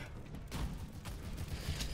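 Gunfire in an Overwatch beta match: a handful of sharp, broadband shots crack out at uneven intervals over a steady low rumble of game noise, all at a fairly quiet level.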